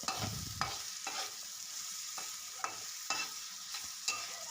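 Onions for chicken curry sizzle in a pan as a spoon stirs them, with a steady soft frying hiss punctuated by regular scraping strokes roughly every half second, close and fairly quiet.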